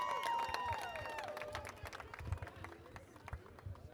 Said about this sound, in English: Give them a round of applause out there.